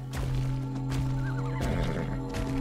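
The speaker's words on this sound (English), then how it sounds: "There's a lot of horses on the map." A horse neighs in the game ARK Survival Ascended, Scorched Earth map, a fairly close whinny with a rising and falling call over a steady droning game soundscape with low hum, no talking.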